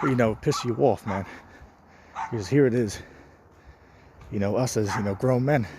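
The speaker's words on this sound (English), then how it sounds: "Excuse that dog if you hear that in the background." A dog barks and yips repeatedly in the background, its calls tangled up with someone talking steadily in the foreground.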